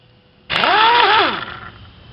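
Starter on a Mazda 13B rotary engine spinning for about a second, a loud sudden whirring whine that rises, dips and winds down, then quiet; the engine does not catch.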